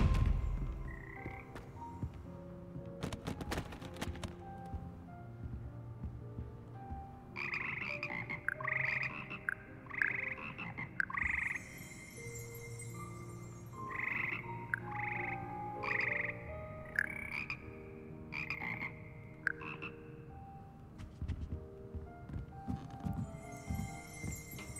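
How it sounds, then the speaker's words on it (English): A chorus of croaking frogs from the Hogwarts Frog Choir in Hogwarts Legacy, repeated bursts of croaks in a rhythmic, musical pattern over a steady background bed with occasional clatter. "Here perch the slimy yet symphonic frogs that comprise the Hogwarts Frog Choir."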